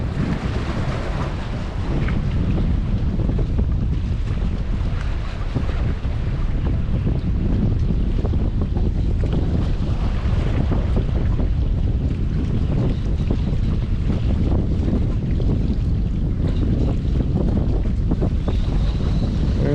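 Strong wind buffets the microphone in a constant loud roar with gusty rumbling while fishing, over faint water sounds, no voices.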